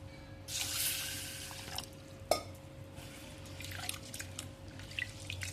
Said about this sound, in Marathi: मुगाची डाळ आणि उडदाची डाळ ही आपण एकत्र धुवून घेणार आहोत